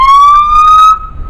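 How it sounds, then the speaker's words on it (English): A police car siren sounds loud and close as a single steady electronic wail that climbs slightly in pitch for about a second, then cuts off abruptly. "it will turn on the siren"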